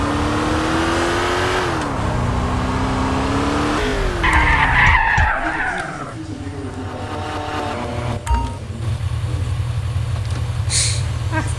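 Car driving and skidding in GTA San Andreas, the game running laggy: loud engine drone with changing pitch, long tire screeches and skids, and a thump around the middle, steady and close throughout.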